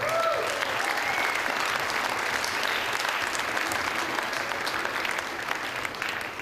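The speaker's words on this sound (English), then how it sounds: "So I want to ask you guys to join me in a round of applause for you guys" A crowd at a poker tournament gives a sustained round of applause, a dense, steady roar of clapping that holds evenly for several seconds.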